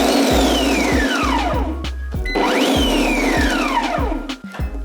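A Thermocook Pro M food processor motor whirs loudly in two long runs that rise and fall in pitch, with rhythmic chopping thumps beneath the noise.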